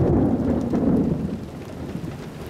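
Loud rolling thunder from lightning striking near a tornado during a night storm in DeWitt, Arkansas, rumbling steadily over heavy rain before fading slightly.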